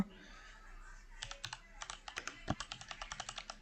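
Quiet, close computer keyboard typing: a short pause and then a fast, irregular run of light clicking keystrokes with a few firmer taps.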